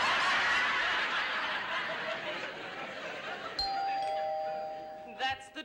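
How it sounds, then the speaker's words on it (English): Indistinct voices and soft laughter, then a doorbell chimes with two clear ringing tones, followed by a short burst of laughter. "That's the door. Sound like a bell."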